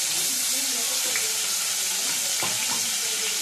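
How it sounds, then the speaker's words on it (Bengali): Garlic frying in two spoons of hot oil in a wok over medium heat, producing a continuous soft sizzle with a few scraping stirs, fairly quiet. "আর একটা কড়াই নিয়ে আমি আবার তেল 2 চামচ নিয়ে টেবিল চামচ দিয়ে মিডিয়াম হিটে হিট করে নিয়েছি। এরপর আমি রসুন দিয়ে দিলাম, রসুন দিয়ে একটু নাড়াচাড়া করে নিলাম"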